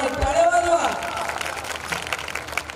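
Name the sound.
audience clapping at kirtan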